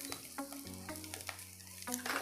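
Curry leaves and coriander fry in hot oil, a short continuous sizzle heard up close, with no voices over it.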